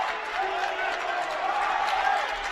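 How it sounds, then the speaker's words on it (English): Crowd applause and light cheering from fans at a men's college basketball game in a gym, a steady wash of clapping lasting throughout with some voices mixed in. "Fans applauding Mogaladou's effort and his courage"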